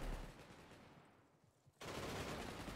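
An SMG fires in rapid bursts in the video game Wormhole Wars, giving dense rattling gunfire that drops off into a brief lull before a loud resumption of sustained shooting.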